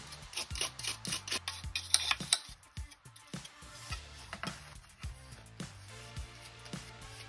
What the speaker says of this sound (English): I'm just going to clean this little chassis off real quick because it is quite dusty.